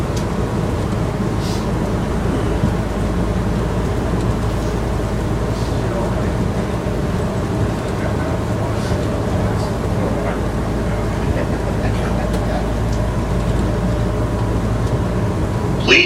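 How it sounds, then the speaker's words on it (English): The automated airport shuttle train at Orlando International Airport rolls along with a steady low rumble and hum, heard from inside the car, with faint voices and a brief sound near the end. "This is the automated train here in Orlando,"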